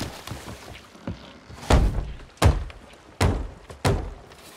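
Wooden hull repair aboard a ship in Sea of Thieves: four loud hollow thunks, roughly evenly spaced like hammer blows on planks, with softer knocks before them, close and without talk.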